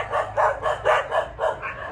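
A pack of ten dogs barks in a steady run of loud, close yelps and woofs, roughly seven bursts in two seconds, with no talk over them.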